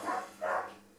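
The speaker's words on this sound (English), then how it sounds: "The dogs have decided to bark because the camera's on" Two loud, close barks from a dog, the second slightly longer, with a short gap between them.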